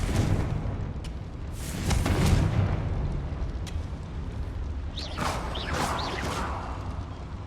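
Confringo explosive spell blasts in the Hogwarts Legacy video game, deep rumbling booms and whooshing bursts layered over a dense background of game effects.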